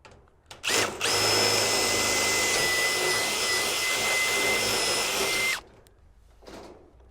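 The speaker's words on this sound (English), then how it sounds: "Again, just re-drill that hole out." A power drill re-drills a hole in a metal Absco shed panel, running in one steady, high-pitched whine for about five seconds close by, with a short bump at the start and faint handling noise after.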